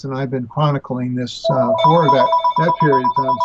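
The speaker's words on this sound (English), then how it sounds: "Sorry about the phone here." A telephone rings in a room during an interview discussion, a steady electronic ringing tone running under continuous male speech through the second half.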